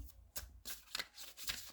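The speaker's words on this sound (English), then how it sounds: "I'll need to shuffle with one hand" A tarot card deck is shuffled with one hand, giving a series of quick, close papery riffles and soft card slaps in short bursts, with no talking.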